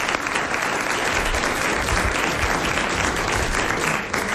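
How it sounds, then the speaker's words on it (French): A studio audience on a 1990 French television show breaks into dense, steady applause, loud and close. The clapping holds evenly for about four seconds and eases slightly at the end. "On peut l'applaudir pour ça."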